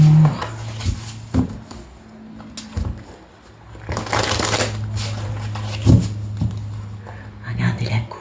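Tarot cards shuffled and cut by hand for a reading, quiet riffling bursts and soft slaps of the deck against a table, under a steady low hum with someone speaking French in between.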